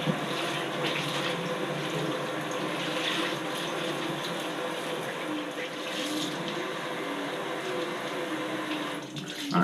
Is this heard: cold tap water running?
yes